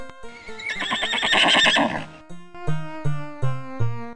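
A horse in the MS-DOS game Kids Zoo lets out a long, shaky whinny that rises and falls, followed by a series of shorter rhythmic tonal pulses.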